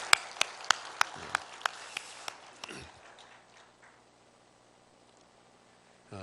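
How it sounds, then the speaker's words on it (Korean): Church congregation clapping after a hymn at a Sunday service, about nine sharp, evenly spaced claps in a slow rhythm, fading into a quiet, near-silent room. "우리 다시 한번 경례의 박수 한번 드리도록 하겠습니다"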